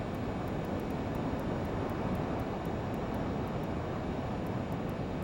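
Learjet 35 jet engines roar steadily just after takeoff in Flight Simulator 2024, a dense continuous cockpit rumble with faint regular ticking clicks above it.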